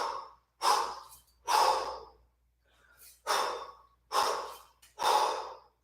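Forceful breath exhalations during a kettlebell long cycle workout, six loud close bursts of air in a steady rhythm, with a fainter breath between them.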